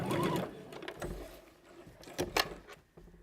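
A sewing machine stitches a garment sleeve, running briefly, pausing, then backstitching in a short second burst; close and moderately loud, with no talking.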